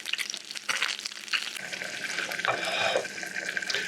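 Gurnard fish fillets fry in a pan, giving a steady crackling sizzle with brief stirring and a faint watery hiss. The sound is fairly close and continuous, with no voices.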